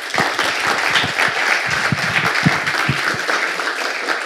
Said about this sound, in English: let's give a very warm welcome applause to Jason